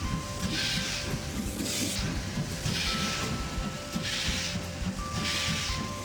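A train engine in an Android train racing game, heard as a steady, continuous hissing rumble with faint tonal whines riding over it, running alone without talk.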